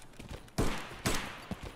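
Gunfire in the video game Escape from Tarkov, heard as two loud, close bursts of shots about half a second apart followed by a fainter single shot, with no talking.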